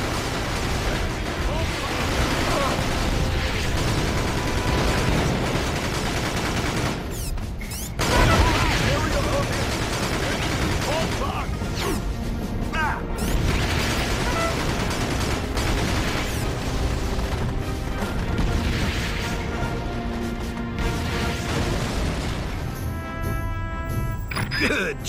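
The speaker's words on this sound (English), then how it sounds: "Use your artillery to destroy those frigates." Artillery fire in the video game Battalion Wars 2: repeated heavy booms and explosions in a dense, continuous battle din, with a voice speaking over the chaos.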